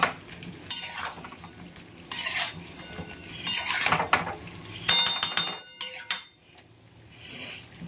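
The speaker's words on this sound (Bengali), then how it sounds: "ছোট খুন্তি তো অসুবিধা হয় বড় খুন্তিটা দিয়ে করি" A large spatula stirs and scrapes food in a pan on a home stove, giving irregular metallic scrapes and clinks with a soft sizzle underneath, close and fairly loud, in bursts with brief pauses.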